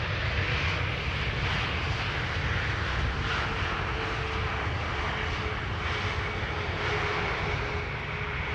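Engine noise from a Transavia airliner in retro livery arriving on the Polderbaan runway at Amsterdam Schiphol, a steady, fairly faint jet rumble and hiss lasting the whole stretch with no talk.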